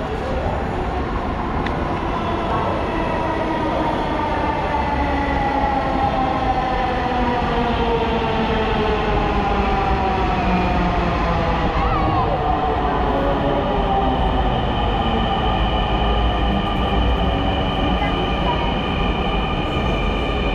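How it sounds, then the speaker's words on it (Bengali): Metro train pulling into a station platform with a loud, continuous rumble and rising wheel whine that holds steady across the whole stretch, with voices audible in the background. "হ্যাঁ ওই তো ট্রেন আসতেছে"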